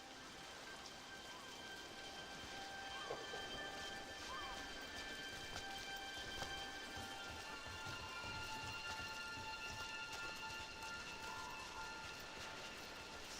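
Steady rain patters on surfaces in Dragon Age: The Veilguard, a soft even wash throughout with faint tonal music lines above it and no clear talk.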